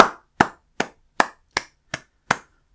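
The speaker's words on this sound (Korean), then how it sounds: "일단 박수 먼저 치고 시작하겠습니다." A single person claps seven times at the start of a podcast episode, sharp, close and evenly spaced about every third of a second, with silence between the claps.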